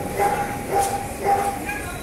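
Dogs bark at a pet expo in three short repeated bursts, fairly close and loud, amid voices and background crowd noise.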